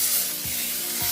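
Olive oil sprayed from a can onto an air fryer tray gives a steady, close aerosol hiss that runs the whole moment, with two soft low thumps as the nozzle is pressed.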